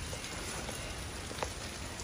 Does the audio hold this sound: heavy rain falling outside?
yes